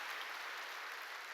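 Steady, dense applause from a church congregation during a sermon, continuous and even throughout with no voices breaking through.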